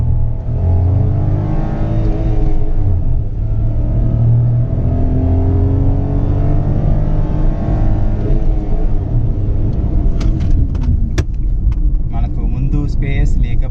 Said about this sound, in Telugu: ఓకే చలో రెడీ 1 2 3 స్టార్ట్ గో.